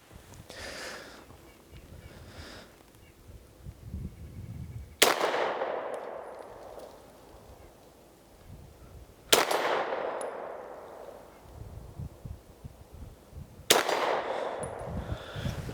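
Three sharp shots from a Walther PDP F pistol ring out several seconds apart at an outdoor range, each followed by a long fading echo, with a steel target 45 yards away and light wind between shots.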